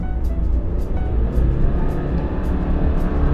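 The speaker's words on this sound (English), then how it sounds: "the turbo's kicking in harder" A car engine in sport mode with the turbo boosting, a loud, steady, close rumble with faint airy hiss bursts recurring on top throughout.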